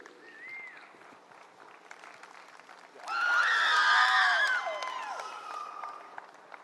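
At a youth livestock show exhibition, a crowd breaks into applause and high whooping cheers midway through. The sound rises from a quiet room and holds loud for several seconds before easing.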